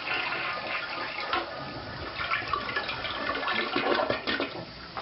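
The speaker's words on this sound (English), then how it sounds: "when I flush it, it seems to flush fine, but then it's not filling up after it flushes." A toilet with a faulty fill valve flushes, giving a steady rushing, gurgling wash of water that runs continuously and fairly close, with no refill hiss following.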